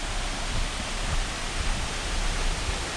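Steady, full roar of the waterfall at Cascada Las Delicias in Colombia, a dense unbroken rush of falling water filling the whole clip with no voices.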